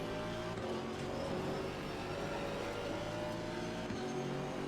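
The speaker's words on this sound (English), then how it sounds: "I do like the sound of the car." A GT4 race car engine at the Nürburgring drones steadily throughout, a continuous mechanical hum with faint tonal whine, moderately distant and even in loudness.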